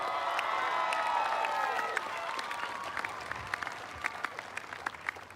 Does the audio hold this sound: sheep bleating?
no